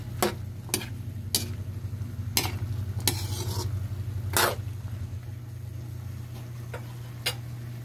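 Sautéed bottle gourd being stirred in a pan, with sharp utensil scrapes and clacks at an irregular pace over a steady low sizzle, close and clear with no talking.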